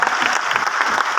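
Audience applause at a motivational talk in Jaipur, a dense, steady patter of many hands clapping that fills the whole short stretch at a fairly loud level, with no one speaking over it.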